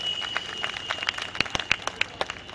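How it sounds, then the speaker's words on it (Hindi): Scattered audience clapping at a Hindi kavi sammelan poetry event, a handful of individual claps at irregular intervals, fairly distant with a faint steady tone in the background. "एक बार ताली आप सब लोग बजा दो प्लीज।"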